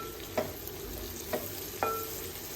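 Curry leaves drop into hot oil in a pan, giving a faint steady sizzle broken by three soft stirring clinks, with no talking.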